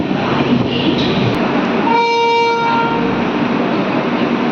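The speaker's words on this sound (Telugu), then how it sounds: "పెద్దపల్లి నుంచి మన ట్రైన్ బయలుదేరుతుంది" A Sirpur Kagaznagar–Secunderabad SF Express pulls out of Peddapalli Junction: a loud, steady rail rumble fills the clip, with one sustained horn blast for about a second partway through.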